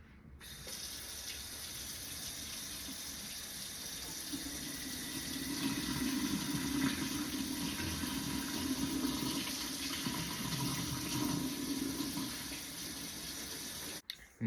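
Tap water runs steadily into a sink as fruit is rinsed, a constant, close hiss and splash that swells slightly midway and stops abruptly at the end.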